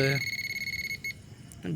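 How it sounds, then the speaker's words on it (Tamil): A metal detector sweeping outdoors gives a steady electronic tone that holds for about a second, breaks off, then chirps twice more briefly, with a short voice heard at the very start and end. "சின்னதாக ஒரு பீப் சவுண்ட் கேட்டால் கூட கொஞ்சம் பயங்கரமாக ஹாப்பியாகிடுது"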